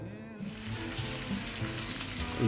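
Steady crackling sizzle of vegetable oil in a hot frying pan, for frying chicken, continuous and close, with a faint low hum underneath.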